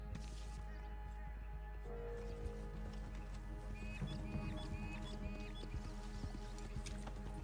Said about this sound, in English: You can hear the birdies chirping.